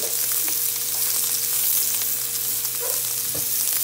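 Scallops sear in a very hot pan turned down to medium heat, giving a loud, continuous close-up sizzle with faint crackles and no talking.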